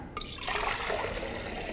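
Filtered water pours steadily into a container, a close, continuous liquid rush that starts after a brief quieter moment and keeps running without speech.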